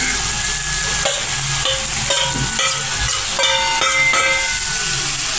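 Pieces of liver hit a hot pan and sizzle loudly in a home kitchen, a dense steady hiss with scattered sharp clinks and taps of utensils against the pan.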